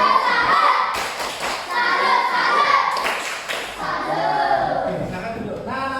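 Classroom children performing a rhythmic tepuk salut clapping chant together, with patterned claps, thumps and taps mixed with their chanting voices at close range.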